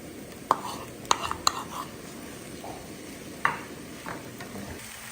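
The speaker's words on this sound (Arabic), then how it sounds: "وهلأ بدي أضيف الطماطم" Potato shakshuka in a frying pan as tomatoes go in, with a soft sizzle beneath a few sharp utensil clicks and stirring scrapes, close and fairly quiet.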